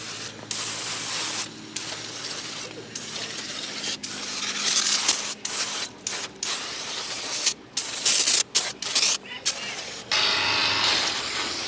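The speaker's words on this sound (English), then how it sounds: "get a tin of degreaser and give everything a spray" Repeated hissing bursts of a degreaser aerosol can spraying, short and long sprays separated by pauses, close to the microphone.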